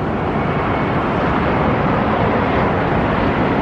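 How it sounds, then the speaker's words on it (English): A small Air Canada plane flies over near an airport, giving a constant, loud broadband drone that holds steady from start to finish without pauses or talk. "That is a little tiny plane."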